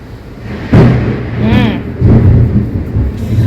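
Thunder breaks suddenly with a loud, close crack and keeps rolling in broad, heavy rumbles that swell again a moment later, while a voice is briefly heard underneath.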